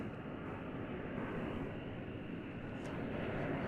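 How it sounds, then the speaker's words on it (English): An American Airlines Boeing 737-800 lands at DFW, heard as a faint, steady distant jet rumble that never rises or falls. "Flight coming in from Silao in Mexico. It's American Airlines Flight 827. It's a 737-800."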